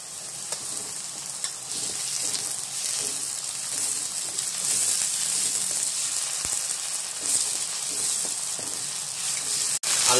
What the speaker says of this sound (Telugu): వేసుకున్న అల్లం వెల్లుల్లిపాయ పేస్ట్ వేగింది